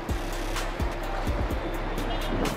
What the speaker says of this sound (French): Il y a tellement de bagnoles.